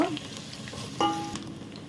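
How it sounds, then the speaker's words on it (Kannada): Chopped onion hits hot ghee in a pan for a Mangalorean mutton curry, giving a soft sizzle with a few stirring scrapes, quiet and close without talk. "ಅದನ್ನು ಕೂಡ ಹಾಕುವ ಚೆನ್ನಾಗಿ ಇದು ಫ್ರೈ ಮಾಡಬೇಕು"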